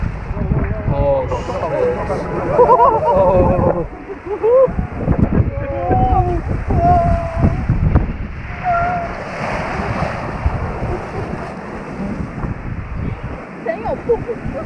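A rapids-ride boat rushes through churning water at Leofoo Village Theme Park in Taiwan, with loud continuous splashing and wind roar close by. Riders shout and talk over it.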